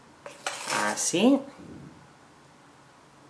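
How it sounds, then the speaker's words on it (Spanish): Metal teaspoons clink against a jug holding red grapes as baking soda goes in, a few sharp taps followed by a brief scraping rattle, with someone speaking over the sounds. "voy a echar un par de cucharaditas"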